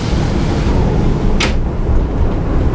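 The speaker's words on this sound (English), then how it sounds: "I'm going to close this door" A single short thud-and-swish comes as the pilot house door slides shut aboard an Axopar 37 boat, set against a loud, steady background rumble.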